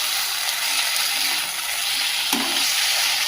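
A pan of vegetable stir-fry sizzles loudly and steadily, a dense close hiss of frying with a faint stirring knock partway through and no voices.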